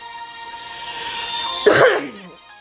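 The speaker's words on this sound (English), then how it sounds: "you have to forgive me for the coughing a little bit here." A single sharp, close cough breaks out after a moment of steady background hum.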